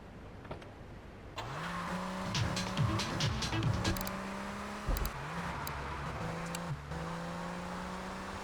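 Car driving in the video game GTA III: The Definitive Edition, an engine humming and shifting pitch as it accelerates, with clicks and thumps over a moderate background.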